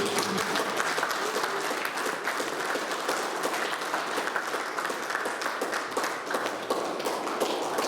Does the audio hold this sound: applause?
yes